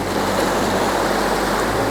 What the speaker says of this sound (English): We just need one of these waves to wash in.